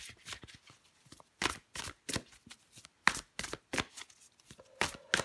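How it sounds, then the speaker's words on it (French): Tarot cards being shuffled and drawn by hand, a run of crisp papery riffles and flicks in quick uneven bursts, close and fairly quiet, with no one talking. "Allez, je prends encore une carte."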